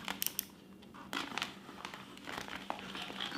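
Carbon fiber vinyl wrap being trimmed of its excess, giving close crinkly rustling and snipping with a few sharp clicks and crackles, irregular and fairly quiet throughout, with no voice.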